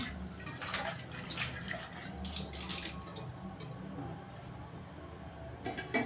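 Something is washed under running water by a stove, with a steady close splash and trickle, scattered drips and a few clinks of handled items.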